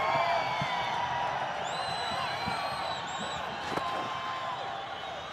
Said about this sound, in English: The crowd is erupting in a roar.